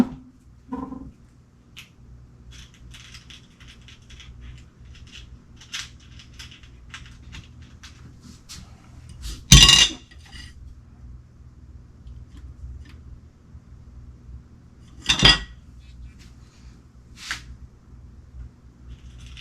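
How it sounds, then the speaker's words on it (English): Small screws clink and rattle faintly as fingers rummage through a screw kit during a Traxxas XRT RC truck build, with two louder plastic clatters standing out amid the quiet shuffling. "dig into the screw kit. Let's see what we got here for utilizing some short screws."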